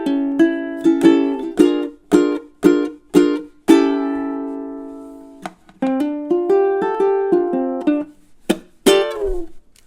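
A ukulele plays a fingerstyle minor blues ending: a run of crisp plucked notes and chords, some slid down, a ringing sustained chord, then a final flurry of notes, close and clear with no talking.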